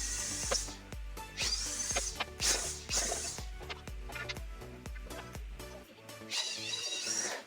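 Power drill boring holes into bengkirai and ulin hardwood for a fence, with repeated short bursts of whirring, rhythmic thumps and brief pauses, loud and close, ending in a higher whine.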